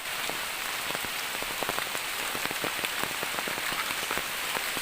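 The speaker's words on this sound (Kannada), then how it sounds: "ಆ ಮಳೆ ಸ್ವಲ್ಪ ಕಡಿಮೆ ಆಗಿದೆ ಆಯ್ತಾ" Heavy rain pours steadily during a flood near the sea, a dense continuous hiss with scattered drops pattering on nearby surfaces, loud and unbroken, with no voices.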